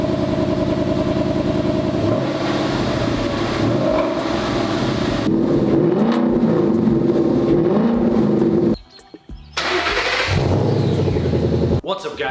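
Modified exhaust on a 2011 Ford Mustang GT firing up cold, a loud, close, rumbling engine that holds steady and revs, cuts out briefly near the end, then roars back.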